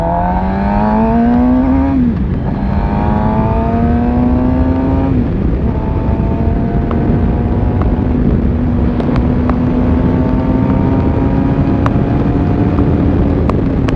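Car accelerating hard through the gears, engine pitch climbing then dropping at each shift, loud and close from inside the cabin with heavy wind buffeting throughout.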